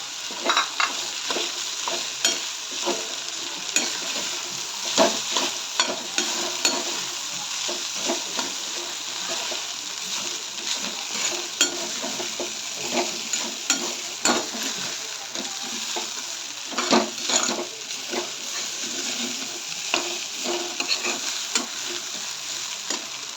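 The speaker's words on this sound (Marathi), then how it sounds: "व्यवस्थित परतून घ्यायचे आणि भिजवलेले पोहे याच्यामध्ये आता मिक्स करायचे" Soaked poha with peanuts and turmeric is stirred and sautéed in a pan for kande pohe, giving a continuous soft sizzle broken by frequent irregular scrapes and light clinks of a spoon, close up, with no voices.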